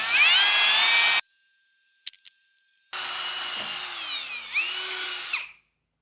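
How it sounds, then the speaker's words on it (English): A powered polishing pad buffing a car headlight, a loud high whirring whine that runs steadily, stops, then starts again with pitch dips as it loads against the lens before cutting off. "put a little bit on the pad, put a little bit on the light, and then we'll start polishing here."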